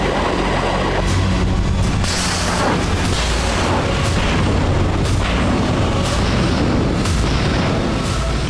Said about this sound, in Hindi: जहाजों से मिसाइलें दागी जा रही हैं।